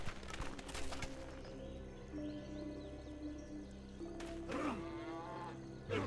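A cow lowing in the Civilization V strategy game, a drawn-out moo rising over a steady background of game music and ambience, moderately loud with no one talking.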